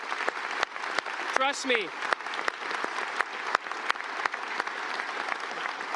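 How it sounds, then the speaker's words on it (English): Audience applause for manufacturing plant workers at a prime ministerial event, steady clapping throughout with a brief spoken phrase rising over it partway through. "I want to give you another big round of applause"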